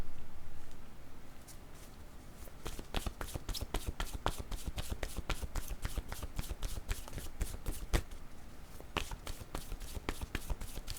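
Tarot cards are shuffled by hand, a close run of rapid crisp flicks and slaps repeating steadily for several seconds, pausing briefly and then resuming, with no talking over it.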